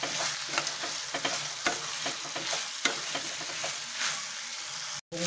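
Potato and kohlrabi pieces are stirred in a frying pan, a close crackling sizzle with regular scraping strokes of a spatula, briefly cut off near the end.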